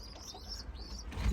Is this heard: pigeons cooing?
yes